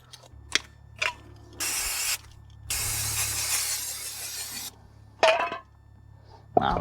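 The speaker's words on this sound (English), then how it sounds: "Let's clean up the slider pins." Brake caliper slider pins from a Mazda MX5 NC are cleaned, with two long loud bursts of spray hissing between short metallic clinks and scraping handling noises, close up against a faint steady background hum.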